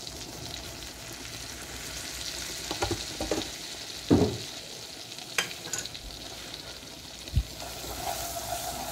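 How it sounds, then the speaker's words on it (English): A roux of flour and butter cooks in a pan, a faint, steady sizzle with a few soft stirring scrapes and clicks scattered throughout. "I am just making a roux. You've seen me make them before. Flour and butter"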